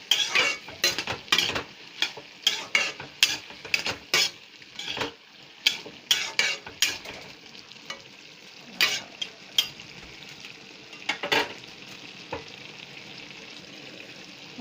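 A spoon stirs nil kachu (taro) curry in a pot after salt goes in, scraping and clinking in a steady, repeated rhythm, close and alone, with a faint simmer underneath.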